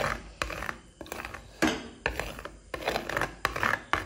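The greased back of a spatula, coated in ghee, smooths a sticky peanut candy mixture in a series of short rhythmic scraping strokes, near and moderately loud.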